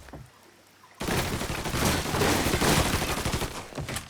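Loud gunfire from a firefight in the video game Mafia III breaks in suddenly after a quiet second, then continues as a dense, rapid barrage of shots with booming impacts.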